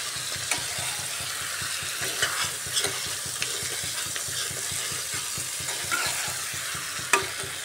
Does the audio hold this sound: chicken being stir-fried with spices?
yes